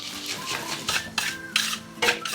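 Already fried chicken tipped into a pan of Chicken 65 masala and stirred, giving a few clattering scrapes and clinks of a utensil against the pan in repeated bursts, close and moderately loud.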